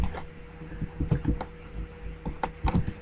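Keys on a computer keyboard are tapped in irregular bursts of close, crisp clicks while HTML code is entered, with short pauses between strokes.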